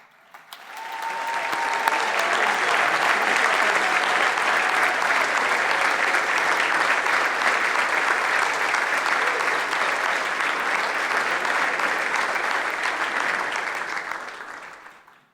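A large graduation audience applauds graduating action researchers at an award ceremony, a dense and steady clapping that holds at full strength for about fourteen seconds before tapering off.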